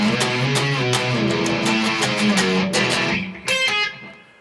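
Electric guitar in standard tuning plays the opening line of the Fire Force theme, a busy run of picked notes with sharp attacks over a continuous sustained texture, ending on a brief ringing phrase.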